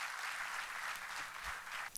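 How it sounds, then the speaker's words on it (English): An audience applauds lecturer Ronnie Screwvala at IIM B, a steady, dense wash of clapping that holds evenly for about two seconds with no voices over it. "Can we have a round of applause for Mr."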